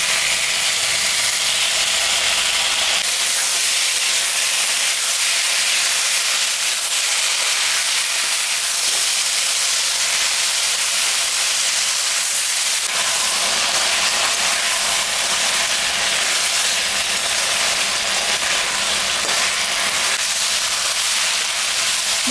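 A spice paste of ground ginger, cumin and green chilli sizzles and fries in a pan, a steady broadband crackling hiss that runs loud and continuous throughout, with no talk.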